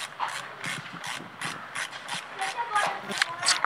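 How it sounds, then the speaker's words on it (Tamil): Rapid ratcheting clicks from a screwdriver backing the screws out of the number plate on a Yamaha FZS-V3 motorcycle, a steady run of close, evenly spaced metallic ticks. "நம்பர் பிளேட்டை ரிமூவ் பண்ணுறதுக்கு ஸ்க்ரூவை கழட்டணும்."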